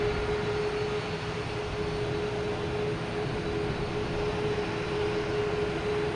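Airliner taking off on the runway at Boston Logan Airport, a steady, loud broadband engine roar with a constant tone, sustained throughout with no talk.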